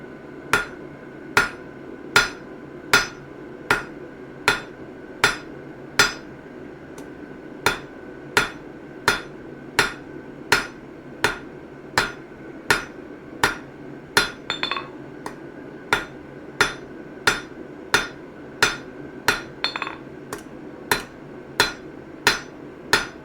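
A hammer strikes steel while a straight chisel is forged, giving evenly spaced sharp ringing metallic blows, about one per second, close and clear over a quiet background, with a brief cluster of lighter clinks midway.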